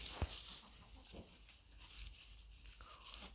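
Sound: chickens

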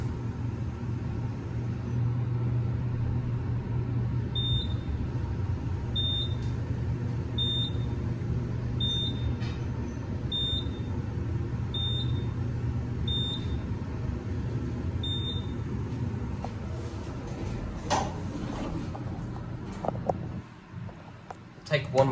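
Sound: Embassy Suites BNA elevator going down

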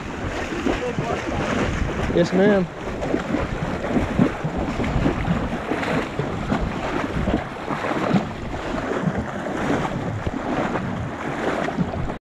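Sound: water swishing around horses wading in the ocean

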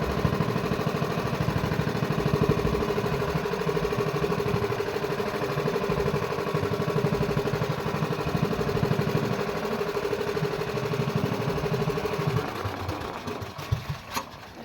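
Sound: boat engine running

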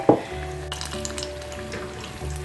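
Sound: fritters frying in hot oil on medium heat

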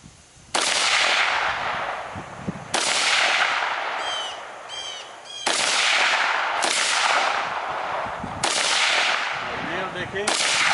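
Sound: gunshots from guns such as .357, AR15, 12 gauge, SKS

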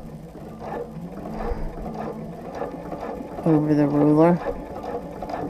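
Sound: sewing machine free motion quilting along a ruler

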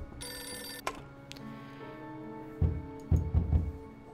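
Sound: phone ringing in the video game Beholder 2

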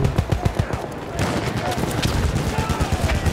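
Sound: gunfire in the video game Battlefield

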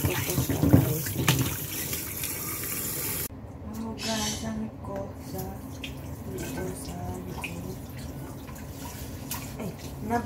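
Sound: washing pig innards under cold tap water

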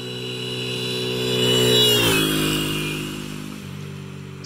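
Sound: motorcycle passing by

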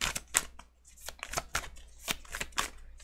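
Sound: shuffling tarot cards

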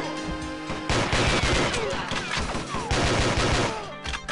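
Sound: gunfire in the video game Goldfinger 64, a Goldeneye 64 mod

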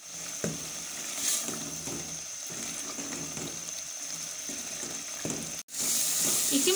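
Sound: chickpea stock poured into frying masala, sizzling

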